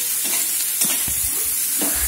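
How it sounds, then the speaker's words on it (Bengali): Onions sizzle steadily in hot oil as they brown for a spicy meat curry, with a bright constant hiss and a few soft stirring knocks. "তো পেঁয়াজটাকে একটু সুন্দর করে বাদামি বাদামি করে ভাজবো।"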